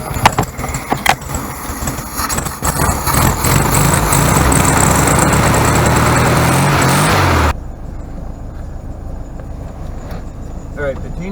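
Air-cooled engine of a 1967 Volkswagen Beetle with a carburetor, warming up: a steady, loud, rumbling idle with clattering for several seconds that then cuts to a quieter running sound.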